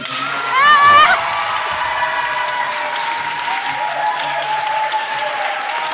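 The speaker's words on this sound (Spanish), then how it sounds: "Por favor, un aplauso por todas nosotras." Applause and cheering fill a feminist assembly at Chile's constitutional convention, a dense steady crowd clapping throughout with a brief louder whoop of shouts near the start.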